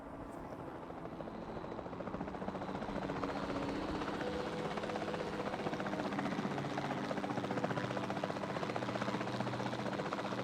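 A helicopter in Jurassic World Evolution 2 drones steadily with rapid rotor chopping, a constant mid-distance hum that swells slightly and holds without pause.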